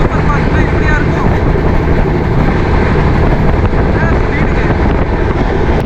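Intercity Superfast train running along the track between Chennai and Coimbatore, a loud, steady dense rumble with continuous broadband clatter and wind rush throughout.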